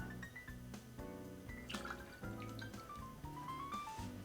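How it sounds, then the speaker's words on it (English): Whiskey poured onto Demerara syrup in a glass for Irish coffee: a soft, close trickle of liquid with small gurgles and drips, quiet and steady throughout. "Do about 2 ounces of whiskey to that."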